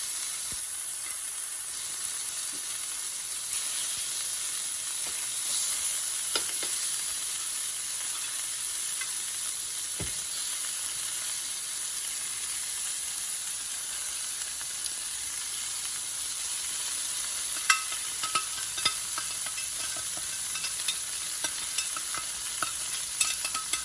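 Aldi lamb chops fry in a pan with a steady, close, continuous sizzle and hiss, with a few faint clicks and scrapes, heard alone without voices.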